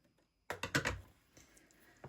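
Scissors snip through sewing thread while making fabric bunting, a quick cluster of close, crisp cuts followed by a faint scrape and a small final click.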